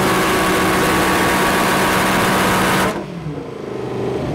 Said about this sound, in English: we've now got some GTRs coming through